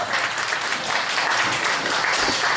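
Steady applause from a church congregation, continuous and fairly loud, with no voices standing out over the clapping.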